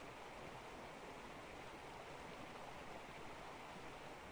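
Flowing water at a water source in Ark: Survival Evolved, a steady broadband rush like a stream or small waterfall, quiet and continuous with no talk over it.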